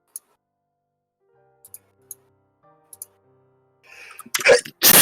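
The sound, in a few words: sneeze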